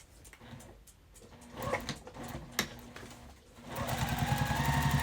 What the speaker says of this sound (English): So now I'm going to take this to the machine and I'm going to sew.